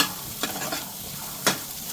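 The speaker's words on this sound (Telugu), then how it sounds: "జస్ట్ తాలింపు అవి వేసేసి కొంచెం గీ వేసి అందులో కొంచెం ఈ శనగలు వేసేసుకొని" Tempering spices and chana dal frying in ghee in a pan. A soft, steady sizzle is broken by two brief scraping stirs, quiet and close.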